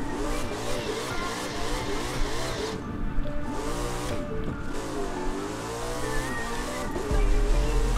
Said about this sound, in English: we gotta do a small burnout so we can get as fast as we can